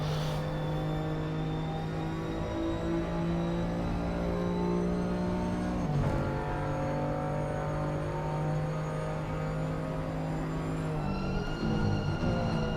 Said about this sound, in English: And Unless Skunky makes a mistake with a damaged car and goes wild somewhere.